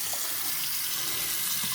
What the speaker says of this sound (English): it's running at the faucet